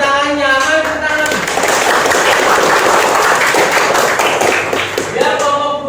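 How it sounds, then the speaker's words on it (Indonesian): An audience in a classroom or school hall claps loudly and steadily for the second, final group, with cheering voices and teacher talk mixed into the continuous applause. "Untuk kelompok 2 atau kelompok terakhir, kita beri tepuk tangan yang meriah"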